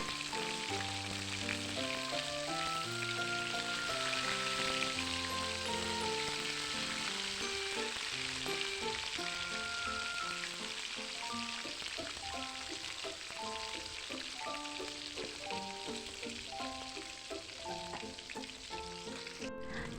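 Chicken sizzles steadily as it fries in hot oil in a simple home kitchen, a constant crackling hiss that runs under melodic background music the whole time.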